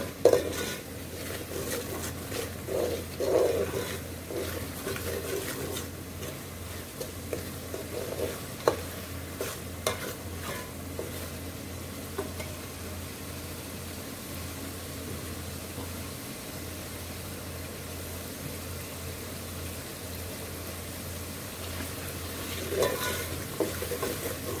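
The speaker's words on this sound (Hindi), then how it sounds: "तीन चार मिनट और मसाले को भुनेंगे" Spice masala roasts in a pan for chickpea gravy while being stirred, making a low, steady sizzle with scattered scrapes and knocks of the spoon against the pan, quiet and continuous without voices.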